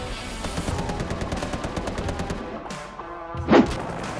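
A tank's mounted machine gun fires in a video game: a rapid, evenly spaced burst of shots for about two and a half seconds, then a brief pause and a single heavier thud.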